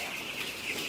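Chickens cluck and chatter together in a poultry farm, a dense continuous flock sound close by with no talking.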